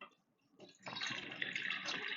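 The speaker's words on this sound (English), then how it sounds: "So I'm going to put some water in here." Water poured from a countertop reverse osmosis system into a cooking pot on the stove, a soft brief splashing fill that starts after a quiet moment and runs steadily, faint and close.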